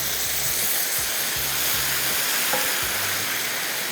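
Vietnamese shaking beef tenderloin stir-fries in a hot pan, a constant loud sizzle and hiss with faint scraping stirs, no voices.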